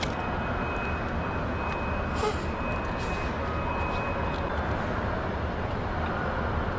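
Steady, loud broadband roar of jet engines heard from inside an airplane cabin during flight, droning continuously with no breaks and no talk.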